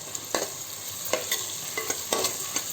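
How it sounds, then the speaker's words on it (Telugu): Onion frying in oil in a pan for chicken biryani, a soft continuous sizzle broken by repeated scraping stirs and light clinks of the spoon, close and steady with no talking. "నూనె వేసి బాగా ఒక ఆనియన్ బాగా బ్రౌనిష్లో వచ్చేలాగా కలుపుతూ ఉండాలి"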